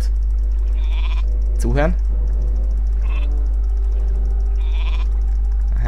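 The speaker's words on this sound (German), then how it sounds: "Die Schafe sind toll." Sheep in the video game Warcraft 3 let out a single clear, wavering bleat midway, with someone talking around it and faint game clicks in the background.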